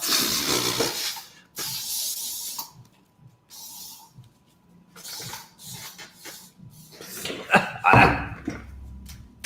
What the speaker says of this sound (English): Sorry, people, got to get the DEET out.